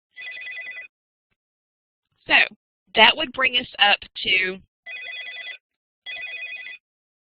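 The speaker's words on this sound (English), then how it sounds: "Sorry about the phone." A telephone rings indoors in repeated double bursts with quiet gaps between them. Someone talks briefly between the rings.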